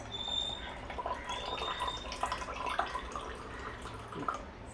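Water draining out of a fresh coconut through a small opening, a faint, soft trickle and drip that runs continuously at low volume.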